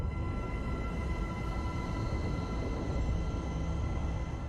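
Primordial sounds of the early universe, pitched up to be audible, form a steady low rumbling hiss with faint sustained tones above it, constant and unchanging throughout.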